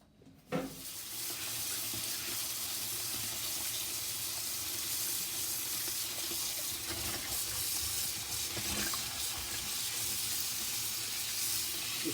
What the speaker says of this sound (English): I'm gonna wash my mushroom.